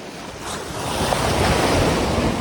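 Sea waves roll in at Kakinada beach, a broad steady roar of surf that swells slightly louder over the stretch, mixed with gusting wind buffeting the microphone, with no voices.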